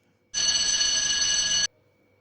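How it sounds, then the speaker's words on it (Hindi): A telephone rings continuously in a cartoon scene, a single bright electric bell burst lasting just over a second, loud and alone with no talk over it. "ओह, टेलीफोन।"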